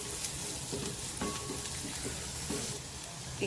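Spices, asafoetida and grated ginger sautéing in hot oil, a continuous fine crackling sizzle with a few soft stirring taps, fairly quiet and without talk.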